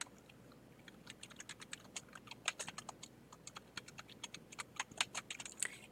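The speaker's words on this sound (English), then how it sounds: "So I'm going to type that in." Steady, rapid clicking of a computer keyboard as text is typed in, close and clear, with dense irregular keystrokes continuing throughout and no talking.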